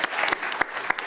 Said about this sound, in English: Why aren't you applauding?